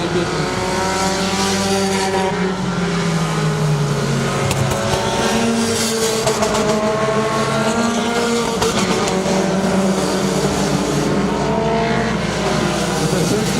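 Race cars at Saratoga Speedway roar continuously at close range, engine notes rising and falling as they circle the track, with a commentator's voice partly audible underneath.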